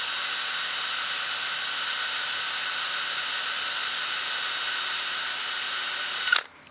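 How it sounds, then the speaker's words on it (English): A power sander on a disc runs with a steady, high whine against the rim of a wood platter, holding constant before cutting off abruptly near the end with a brief clatter. "I'm going to go ahead and sand the rim"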